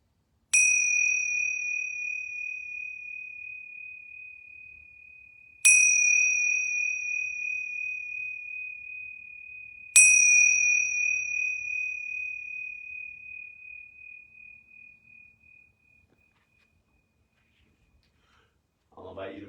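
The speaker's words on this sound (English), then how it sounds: "I'm going to ring these yoga bells 3 times." Yoga bells ring three times, each a clear bright strike left to resonate and slowly fade, spaced about five seconds apart in a quiet room, the last ring dying away into silence.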